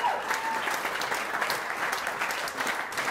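An audience claps at a German cabaret show, dense, continuous applause from many hands at an even level throughout, with no speech over it.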